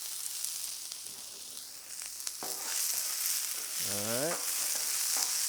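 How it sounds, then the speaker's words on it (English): Onions hitting oil on a hot grill set up a broad, continuous sizzle that grows a little louder, with a short spoken remark partway through and a few faint clinks. "Nice hot grill. Onions, oil down."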